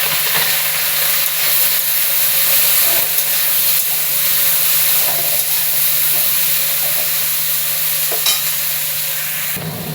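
Turmeric, cumin and Kashmiri chilli powder sizzle steadily in a hot pan while being stirred, a loud continuous hiss with faint scrapes throughout, close up and without any voice.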